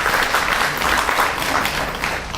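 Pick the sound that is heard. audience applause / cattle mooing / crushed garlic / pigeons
audience applause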